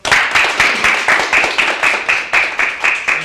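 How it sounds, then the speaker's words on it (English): A youth leadership program audience gives a round of applause, dense rhythmic clapping from a small crowd that pulses steadily and stays loud and close the whole time. "Please give them another round of applause,"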